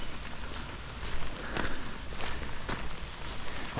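Rain falls steadily in a forest, a constant soft hiss and patter with a few sharper drops or footfalls mixed in, close and moderately quiet.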